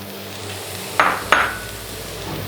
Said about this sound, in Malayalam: നന്നായിട്ടൊന്ന് ഇളക്കി സോട്ടാക്കി ഇടുക.